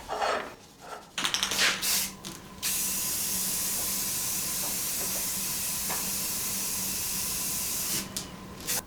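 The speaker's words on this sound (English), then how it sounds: "I decided to paint these parts instead of powder coat them" Spray paint hisses steadily from a can onto metal winch redirect parts for a truck, one continuous burst lasting several seconds after a few brief handling clatters, close and fairly loud, with no talking.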